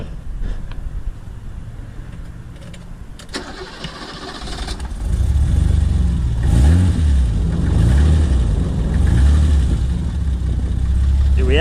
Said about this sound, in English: Car just started, coolant's full.